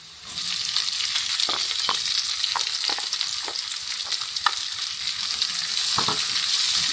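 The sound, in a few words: onions frying in a pan with garlic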